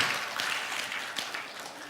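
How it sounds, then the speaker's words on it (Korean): Church congregation applauding during a Sunday worship service, steady dense clapping from a hall of people, moderately loud and without a break. "우리 그분들을 위해서 다시 한번 박수로 격려하겠습니다"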